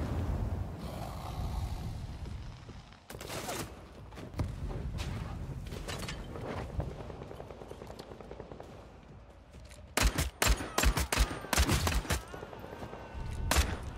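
Marksman rifle fire in the video game Bloodhunt, with sharp shots in bursts, sparse early and a rapid cluster near the end, over a steady game ambience.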